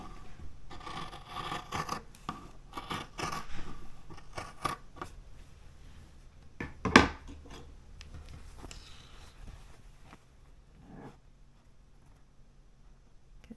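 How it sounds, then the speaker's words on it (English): Small scissors snip fabric close into a sewn corner. Quiet, scattered snips and rustles build to one sharper cut near the middle, then faint handling of the cloth follows. "I'm going to use a smaller pair of scissors to do that so it's a little more exact."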